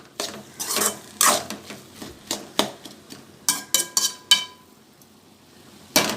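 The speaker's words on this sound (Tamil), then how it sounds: "உப்பு சேர்த்து நல்லா மிக்ஸ் பண்ணி வதக்கி விடணும்" Metal spoon scraping and clanking in a pan while stirring and sautéing greens with tomato and salt, a series of sharp irregular clinks up close, then a pause and one final knock.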